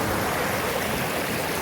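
Sera Khola river stream flowing steadily nearby, a continuous broadband rush of water without pause or voices.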